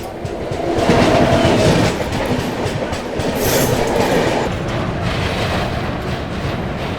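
The Farakka Express from Delhi to Balurghat runs on its rails, a loud, steady rumble with rhythmic wheel clatter and rattling carriages heard from on board for the whole stretch.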